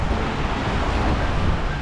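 Rough November sea at Santa Maria di Leuca, Puglia, a loud continuous roar of surf with heavy wind buffeting the microphone and no voices.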